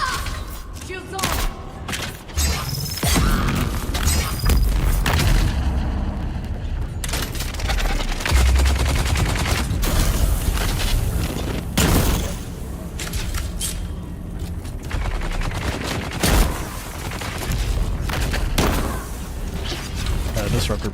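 Repeated sharp discharges from a disruptor pistol in Dune: Awakening crackle and thump in quick irregular bursts, loud and close, mixed with mechanical clatter and a voice talking over the action.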